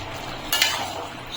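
A spoon stirs soybean curry with ghee and roasted kasuri methi, giving one short scraping swish against the pan over a soft steady background sizzle.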